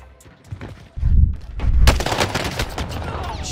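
Armaguerra 43 submachine gun fire in Vanguard Warzone on Rebirth Island: loud, rapid bursts of close automatic shots with booming impacts, dense and overlapping, following a brief quieter lead-in.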